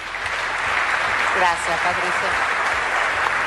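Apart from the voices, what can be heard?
strong applause for Patricia Bullrich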